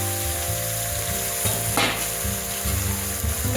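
Chicken sizzling and frying in a pan, a steady bright crackle with occasional stirring scrapes, close and fairly loud, with no talking.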